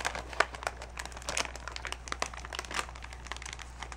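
Shiny plastic packaging from computer parts crinkles and crackles continuously up close, a busy rustling texture with sharper crackles, no voices over it.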